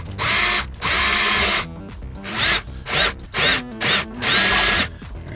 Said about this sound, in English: I'm going to use something called a step drill